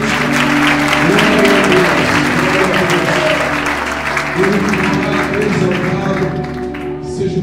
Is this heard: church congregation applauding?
yes